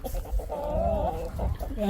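Hens clucking and murmuring close by on a farm, a steady stream of short calls rising and falling, with low rumbling background noise throughout.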